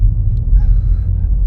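A BMW M5 Touring plays a simulated V8 engine sound as it pulls off in first gear, heard as a loud, deep, steady rumble close by for a second and a half.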